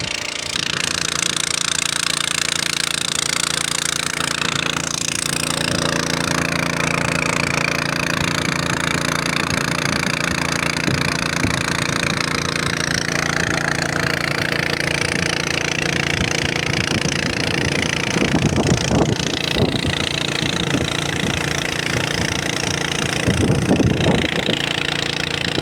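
A petrol engine running steadily at a water pump site, a continuous mid-level drone with a knocking, chugging texture, a few louder bursts near the end, no voices.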